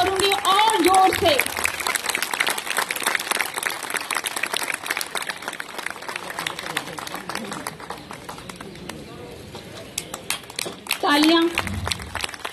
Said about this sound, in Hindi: कंजूसी मत कीजिए, तालियां कर।